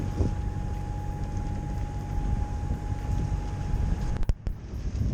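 A sailboat runs downwind past the Medes islands at about 5 knots with a small engine assist, giving steady low rumble and wash with constant wind noise on the microphone, a faint engine tone, and a couple of sharp knocks near the end.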